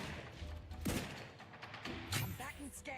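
Two heavy sniper rifle shots ring out in The Outer Worlds 2, about a second apart, each a sharp crack with a booming tail, set against a steady game soundscape with voices faintly mixed in.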